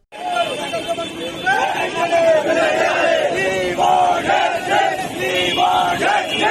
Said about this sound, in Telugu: బాగానే మంది గుంపుగా జమగూడిండ్రు కదా